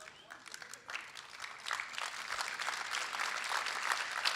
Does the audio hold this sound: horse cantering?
no